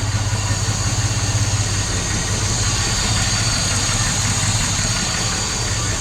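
A Jaguar S-Type engine idles steadily as it warms up, a constant mid-pitched drone with a low, even throb running unbroken throughout, with no voices.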